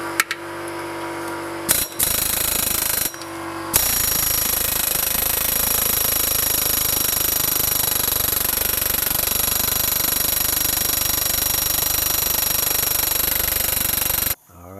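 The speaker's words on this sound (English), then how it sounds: "take 2 with a 9X air hammer" A 9X pneumatic air hammer pounds on a Toyota CV axle in a rapid, loud, continuous hammering burst after two short test bursts, running almost unbroken to the end without talk.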